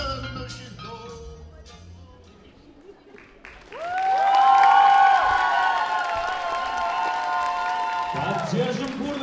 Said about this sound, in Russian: Поддержим бурными аплодисментами еще раз.